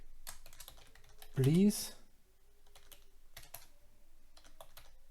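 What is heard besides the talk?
typing on a computer keyboard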